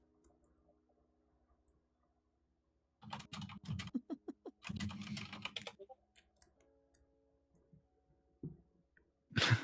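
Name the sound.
typing on a computer keyboard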